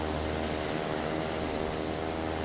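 Steady propeller drone of a Cessna 208 single-engine turboprop passing by in a flight simulator, a continuous broadband roar with a low hum, holding even loudness throughout with no voices.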